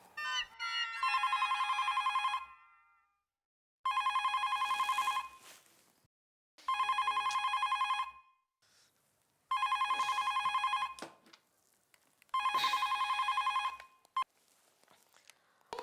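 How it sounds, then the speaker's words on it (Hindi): Landline telephone rings unanswered in five long electronic bursts separated by short silences, loud and close with no voices. "लैंडलाइन पे तो उठाना फोन।"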